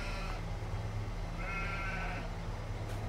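Sheep in Farming Simulator 22 bleat in a couple of drawn-out, wavering calls over a steady low farm ambience, with no talking.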